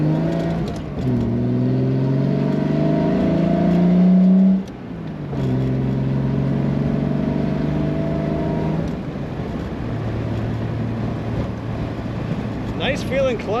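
1973 Triumph TR6 convertible with a 4-speed manual, its engine running close and revving in rising sweeps through the gears, then settling to a steadier drone, with a voice speaking briefly.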